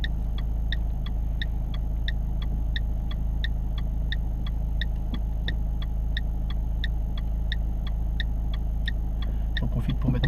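A car's turn signal ticks steadily at an intersection, with evenly spaced crisp clicks repeating throughout over a low idling engine hum inside the cabin.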